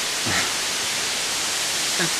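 Slivodolsko padalo, a mountain waterfall, rushes in a steady, dense roar that fills the whole clip, with faint voices barely audible beneath it.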